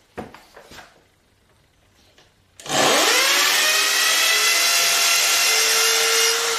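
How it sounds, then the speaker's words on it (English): After a few seconds of light handling noise, a power drill whirs loudly into action and keeps drilling steadily into a wall to the end. "Now I'm going to drill the hole."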